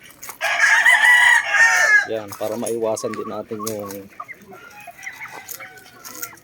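A rooster at a backyard poultry pen lets out one loud, close crow at midday, then someone talks while faint clucking continues in the background.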